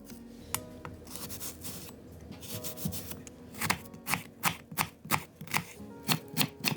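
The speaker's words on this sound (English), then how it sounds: "First we're gonna dice half an onion." A knife dicing half an onion on a board: soft rubbing strokes at first, then a run of sharp, evenly spaced chopping taps growing louder and quicker, close by with no talk.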